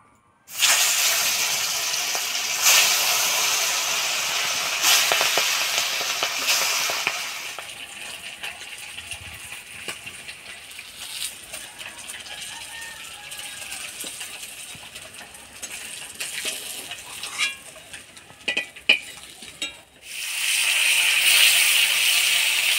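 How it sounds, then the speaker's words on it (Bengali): Pomfret fish fry in hot oil in a pan, giving a steady loud sizzle that fades a little midway with scattered crackles and pops, then rises again at the end. "মাছগুলো ভাজি নিলাম, এবার নামাই দিই।"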